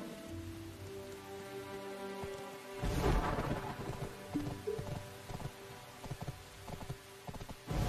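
Rain falls steadily in Heidel, a town in the Black Desert Mobile video game, with a burst of thunder rolling in near the middle over a constant wash of downpour and game music, no talk.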